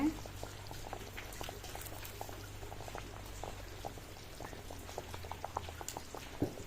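Goan mushroom masala curry bubbling in a pot, with a dense, continuous patter of small pops and bursts close by and a low hum underneath.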